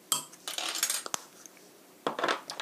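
Boiled potatoes are mashed with salt in a bowl. A metal utensil scrapes and clinks against the bowl in short, close bursts separated by brief pauses.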